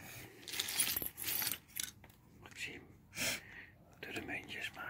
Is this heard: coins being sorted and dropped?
yes